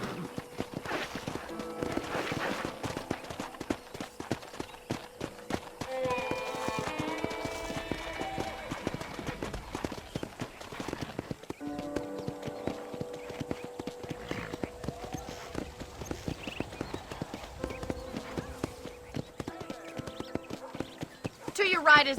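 Steady clip-clop of horse hooves on a ranch property in the Red Dead Redemption video game, an even walking rhythm that runs throughout, with occasional whinnies and people talking over it.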